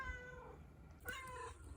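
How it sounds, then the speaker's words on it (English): A house cat meows a couple of times up close, short tonal calls standing out over a quiet room background with no talk. "I've got a kitty here that is excited for part two."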